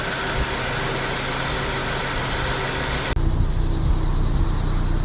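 A 2023 Subaru Forester engine idles with a steady, rumbling drone that shifts to a heavier, slightly uneven, rough tone after a brief click, after intake valve cleaner treatment.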